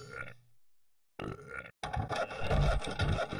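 Villagers in the video game Beasts & Bumpkins belch from eating stale food: a short burp, a pause of silence, then a run of loud, gravelly belches and grunts close up.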